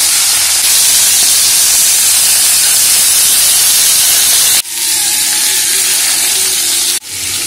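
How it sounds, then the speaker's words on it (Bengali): Crab pieces and claws coated in salt and turmeric fry in a pan, giving a loud, steady, dense hiss and sizzle that breaks off abruptly twice near the end. "কাঁকড়ার সঙ্গে কাঁকড়ার যে দাঁড়াগুলো ছিল সেগুলো নুন হলুদ মাখিয়ে নিয়েছি, একই সঙ্গে ভালো করে ভেজে নেব।"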